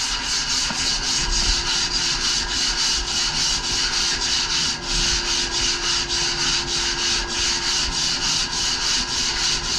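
A 40 grit sanding block rubs back and forth along a surfboard rail, giving steady, close, rhythmic scraping strokes with no pauses for the whole stretch.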